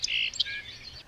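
Songbird in southeast Ohio sings a bright phrase: two quick chirping peaks, then a held note, and further quick rising notes, fairly close and clear over a faint low background hum.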